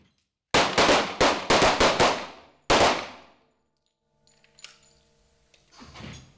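A rapid string of loud pistol shots rings out at a police shooting range, a quick burst of six then one more after a pause, each with a short echo, followed by faint clatter and shuffling; no talking.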